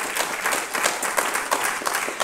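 An audience at an MLK celebration claps along steadily, a dense, even wash of many hands with faint rhythmic accents, fairly close and without talk over it.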